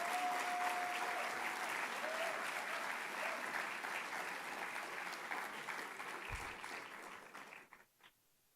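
A convocation audience applauds Professor George Holmes after his honorary doctorate, a broad sustained wash of clapping that holds steady, then thins and fades out near the end, with a few last claps and a brief tone early on.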